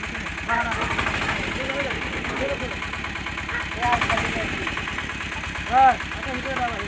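A tractor engine runs steadily on a street with a damaged drain cover, a low rhythmic chugging throb that continues throughout, with a voice heard over it and a brief louder burst near the end.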